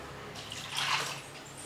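Chana dal being washed in water, with a soft sloshing and swirling of liquid that swells in the middle and then fades, heard close and alone.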